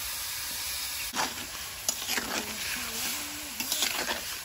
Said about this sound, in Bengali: ওই কড়াইতে এবারে চিনি মাখানো আমটা দিয়ে দেবো। এটা কিন্তু তেল ছাড়া